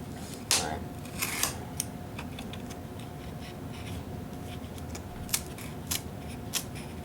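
Scissors snipping through cardboard while a piece is cut for a Peter Sam model: a few sharp close cuts early on, a pause, then more crisp snips later over a faint steady room hum.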